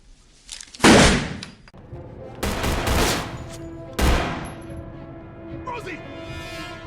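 Bursts of gunfire in a shootout scene from the 2005 film Assault on Precinct 13, three loud volleys with reverberant tails, mixed with film dialogue and score.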